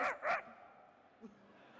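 Two sharp dog barks come close together at the start, then a brief quieter yip follows after a pause over faint background hiss.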